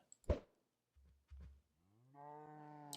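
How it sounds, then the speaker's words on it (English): Minecraft cows moo in a game, a low drawn-out bovine call with clear harmonics rising at the end after a few short thumps, alone with no talk. "Did you see what all the cows did?"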